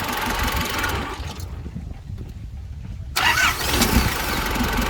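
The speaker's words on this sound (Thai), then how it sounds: "อ่าเดี๋ยวลองดับเครื่องแล้วสตาร์ทดูใหม่ครับ" A long-parked Nissan Big-M pickup (red-head engine) runs, its noise drops as it shuts off, then it cranks and restarts, settling into a loud, rough idle close by.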